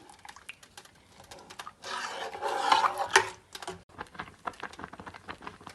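A spoon stirs sweet vermicelli (sheer khurma) with sugar in a pot. A burst of close scraping and wet swishing comes in the middle, with scattered light clinks and scrapes before and after. No speech.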